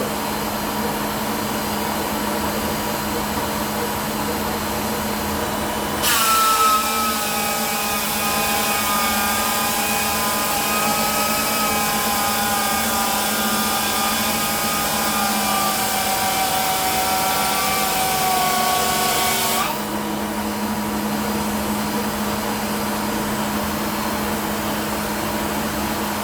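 A Shopsmith planer fitted with a helical cutterhead feeds oak with a dust collector running: a steady collector roar throughout, then a loud, rising, whining cut for about thirteen seconds that stops abruptly.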